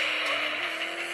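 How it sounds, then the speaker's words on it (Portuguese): Car drifting in a mobile racing video game: a steady, loud engine drone with a skidding, tire-squeal edge, continuous for the whole moment and without voices. "Aí dá pra você fazer drift."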